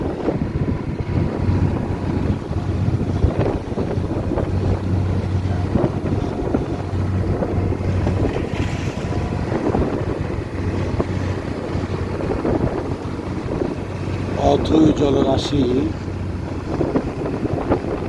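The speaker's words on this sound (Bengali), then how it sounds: "অথই জলরাশির বুক চিরে চিরে চলছে আমাদের ট্রলার" Low, steady engine drone of a trawler under way on the open Bay of Bengal, with wind buffeting and water rushing past, continuing throughout with a brief higher sound near the end.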